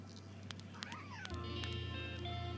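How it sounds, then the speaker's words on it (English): A cat meows in a few short, rising and falling calls, faint and close, over a low steady hum in a quiet room. "Oh, there's the cat."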